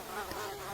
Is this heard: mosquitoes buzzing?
yes